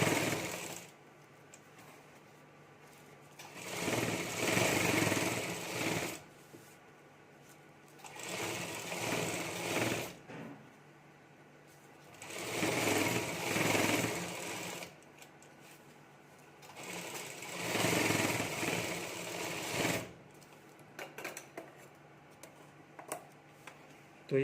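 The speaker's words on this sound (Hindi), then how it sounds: "और अब यहाँ हमें सिलाई कर देनी है।" Home sewing machine stitching a potli batwa pouch with its lining attached, running in four long bursts of several seconds each with pauses between, close and steady, with no speech.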